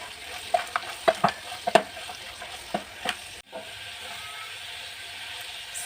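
Tender tomatoes and meat stirred in a hot pan, several close scraping strokes over a continuous sizzle, then steady frying alone.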